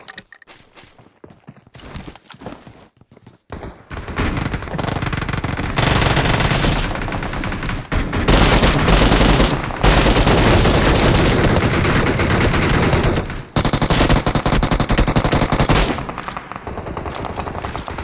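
Uzi fire in the mobile battle royale game PUBG Mobile: after a quiet start, long loud rapid automatic bursts rattle almost nonstop, broken by brief pauses between strings of shots.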